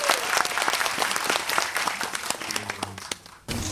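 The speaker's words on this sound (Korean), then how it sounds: "박수 부탁드립니다" Cinema audience applauding at a Yongsan CGV screening with director and actor present, steady dense clapping filling the room for several seconds, then briefly dipping before resuming, with faint voices mixed in.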